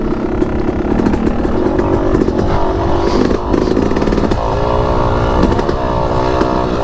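A Yamaha YZ250X two-stroke dirt bike engine buzzes and crackles steadily while riding, its raspy tone swelling and dropping with throttle changes, loud and close throughout.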